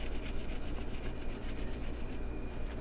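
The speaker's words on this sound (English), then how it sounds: "use a round file to go in there and clean those areas up" A round file works inside metal tubing to clear interior burrs, giving a steady, close rasping scrape that repeats in quick strokes for about three seconds with no voices.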